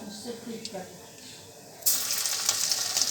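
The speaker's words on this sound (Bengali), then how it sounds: "কালো জিরো ফোড়ন দিয়ে" Nigella seeds (black cumin) hitting hot oil as a tempering, a quiet kitchen bed that erupts into loud, steady crackling sizzle partway through, with a voice speaking early on.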